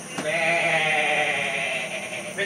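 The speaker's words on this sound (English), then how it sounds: "Sheep!" A sheep gives a single drawn-out bleat, loud and fairly close, lasting about two seconds with a wavering nasal tone over faint outdoor background noise.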